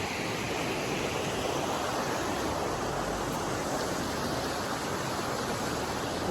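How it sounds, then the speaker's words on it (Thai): A waterfall roars in one steady, dense, broadband rush of water, constant and fairly close throughout with no voices. "ลงตรงนี้ก็จะเป็นน้ำตกแล้ว"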